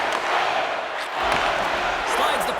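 A hockey arena crowd roars in a steady, dense wash of noise during a tied game, with a few faint thuds underneath and no clear break in the sound.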